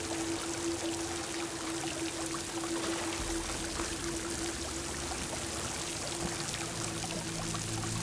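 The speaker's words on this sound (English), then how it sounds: "Water's coming from that vent." Water pours from a vent in the game Horizon Forbidden West, a continuous loud rushing stream that holds steady for about eight seconds with no voices over it.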